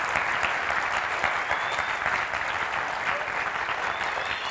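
Audience applause fills a hall, dense steady clapping from a large crowd held at an even level throughout, with no pause or voice standing out.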